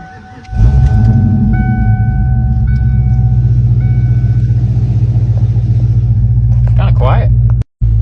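A Ford Mustang GT engine starts, heard with the window open: a short crank, then a loud, steady low idle rumble that carries on until a brief dropout near the end.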